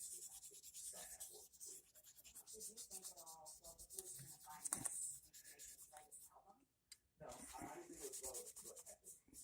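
Light hand sanding of paint with 12,000-grit sandpaper, soft close scratchy rubbing strokes in irregular bursts, quiet, with a brief pause near the end.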